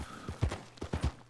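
A horse in the Red Dead Online video game plods along with uneven hoof clip-clops, several soft thuds in a loose rhythm, fairly quiet with no talk.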